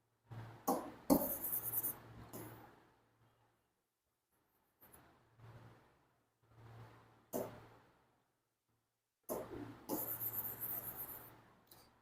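Marker or chalk scratching onto a board or chart during a grammar lesson, in short bursts of strokes separated by pauses, close and fairly quiet, with no talking.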